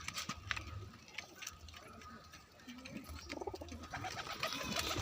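Pigeons coo softly at a distance among scattered pecking and clicking noises, a faint low murmur of cooing rising and falling under light background noise.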